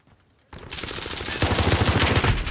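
FAL rifle fire in the first-person shooter Modern Warfare, a rapid automatic burst that starts abruptly after a brief silence and keeps going loud and dense, with heavier low thumps toward the end.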